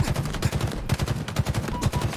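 Rapid gunfire from a Halo Infinite ranked slayer match comes in close, loud bursts, repeating in a steady rhythm with brief dips between volleys.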